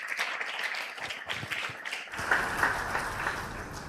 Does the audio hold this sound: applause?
yes